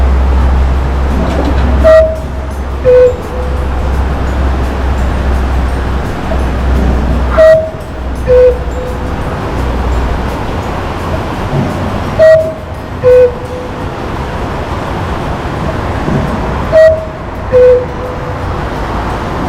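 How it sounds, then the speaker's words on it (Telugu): A Black Forest cuckoo clock in Triberg, Germany, striking twelve, sounds its two-note call several times at slow, evenly spaced intervals over a low, steady background rumble. "ఎగ్జాక్ట్ 12 అవుతుంది, కుక్కు వస్తుంది ఇప్పుడు బయటికి"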